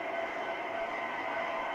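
A Vision Line Big Boy model train running on a home layout, a steady continuous rumbling hum with no pauses or talk.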